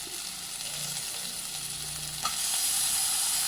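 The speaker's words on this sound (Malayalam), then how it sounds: "ഉള്ളി വഴന്ന് വന്നപ്പോൾ തക്കാളി ഇട്ടു." Onions sautéing in a pan with tomato added for a poori masala, a continuous close sizzle with stirring scrapes, growing slightly louder and brighter after a sharp clatter midway.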